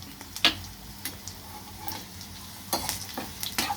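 Tempering spices frying in a pan until crisp, a steady soft sizzle with scattered sharp crackles and pops, close and moderately quiet, no voices.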